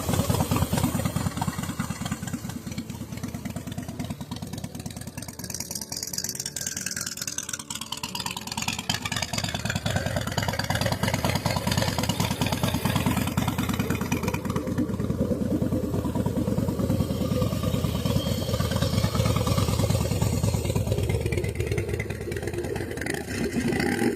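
A 2004 Harley-Davidson Fat Boy cruiser with a manual transmission runs continuously, giving a dense, steady engine rumble with a broad rough texture. The noise holds for the whole stretch with no voices.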